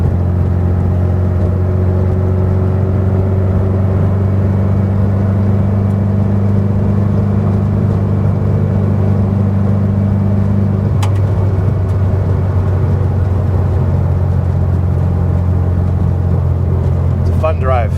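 A 1967 Volkswagen Beetle drives along the road, heard from inside the cabin as a steady, loud engine drone and road rumble; the engine pitch shifts partway through.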